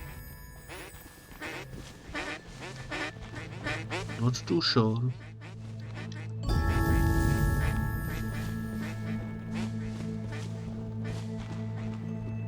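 Ducks quack repeatedly in a nature video game, a run of close, nasal calls under a brief spoken remark, then a loud ambient swell with a steady hum.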